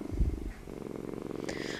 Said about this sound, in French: je vous propose de faire une sieste apaisante accompagnée du doux ronronnement des chats